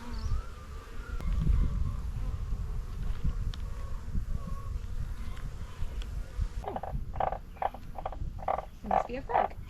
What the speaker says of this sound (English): There's a tree frog.